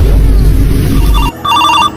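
A mobile phone ringtone plays while a call is placed, with a loud, rhythmic electronic ringing pattern cutting in after a noisy start.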